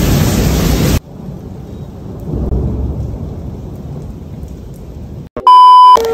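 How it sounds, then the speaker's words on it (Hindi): Thunder rolls during heavy rain in Multan. A brief loud wash of rain gives way to a low, rumbling roll that swells and fades, and a sharp electronic beep tone cuts in at the end. "पता नहीं कितनी तेज़ बिजली कड़क रही है, बारिशें हो रही हैं"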